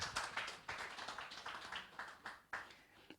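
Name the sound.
audience clapping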